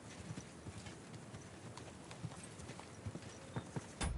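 Horse hooves clip-clop steadily in a medieval open-world game, Kingdom Come Deliverance 2, a fairly quiet regular walking rhythm over faint background ambience.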